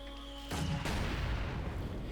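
Gunfire and shelling strike an HQ in Company of Heroes 2: a sudden heavy boom cuts in after a quiet hum, followed by a second blast and a sustained rumbling roar that fills the rest of the moment.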